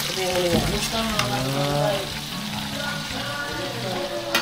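Fish frying in a pan on Onuk Island, Balabac, in the Philippines, with a loud, steady sizzle and crackle close by and a voice speaking under the frying.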